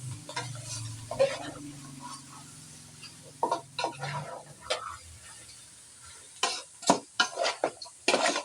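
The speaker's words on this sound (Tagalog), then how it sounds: "Haluin na natin." Dinuguan with pork innards stirred in a pan, a low sizzle with intermittent scraping and clinking bursts of the spoon against metal, close, quieter at first then busier toward the end.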